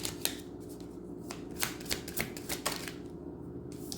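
Tarot cards are shuffled close up in a series of quick, crisp riffles and flicks, with one card then drawn from the deck.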